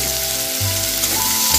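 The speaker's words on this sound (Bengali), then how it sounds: "কড়াইয়ে যে তেলটাই মাছ ভাজা হয়েছে ওই তেলের মধ্যে আমি দিয়ে দিচ্ছি 2টো মিডিয়াম সাইজের কুচনো পেঁয়াজ" Two chopped medium onions sizzle in the hot oil left from frying fish in a kadai, a loud, steady, hissing fry with low bubbling underneath and no voices.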